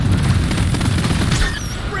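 Grenade blast and gunfire in a sci-fi shooter video game set in space, dense booming low rumble with rapid crackling shots throughout, loud and continuous, easing slightly near the end.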